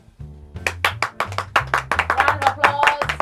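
A podcast studio audience claps in a brief burst of sharp, closely spaced hand claps, with a voice talking underneath throughout.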